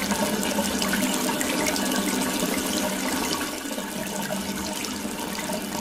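Water rushes steadily and loudly from a tap in a Super Mario Bros cartoon, a continuous broadband gush like a tap running at full force, with no talking.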